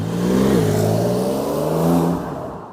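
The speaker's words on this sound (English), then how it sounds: "German Autobahn with the Porsche 911 Dakar. We put to the sports mode. Start from 60 kilometers an hour." A Porsche 911 Dakar in sports mode accelerates hard from about 60 km/h on a German Autobahn, its engine note rising steadily through the revs with a gear change partway through, loud and close inside the car.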